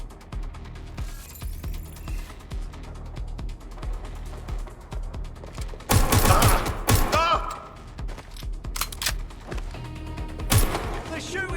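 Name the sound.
gunfire shooting in the video game Watch Dogs Legion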